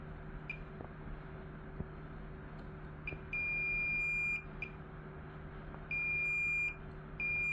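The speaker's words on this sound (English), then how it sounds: "I put the multimeter into the diode mode" Multimeter in diode mode on a medical vein finder main board, giving a thin high beep, first in short chirps and then in two longer steady tones, over a constant electrical hum.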